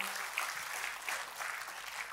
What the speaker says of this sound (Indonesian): Kita kasih tepuk tangannya boleh paling meriah buat Tuhan kita.